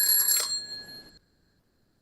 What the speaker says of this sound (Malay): loceng dibunyikan iaitu loceng dibunyikan sekali